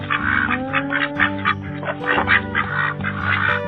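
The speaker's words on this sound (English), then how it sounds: "Goose." A goose honks repeatedly in short, loud, nasal bursts at close range, with no voices.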